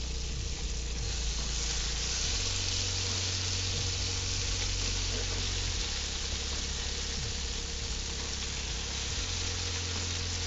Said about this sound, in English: Like this is on medium and it's already sizzling.